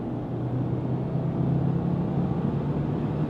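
Subaru WRX tS boxer engine pulling steadily after a downshift into fourth gear, a heavy continuous low drone heard from inside the car, loud and even with no voices.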